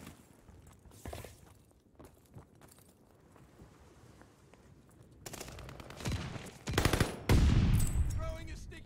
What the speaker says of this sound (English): what are these gunfights I'm getting into right now?